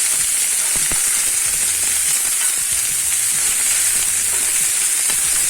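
Chicken wings fry in a cast iron pan with a loud, steady sizzle and hiss that continues throughout, broken by faint occasional pops and crackles.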